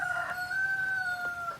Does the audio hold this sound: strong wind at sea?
no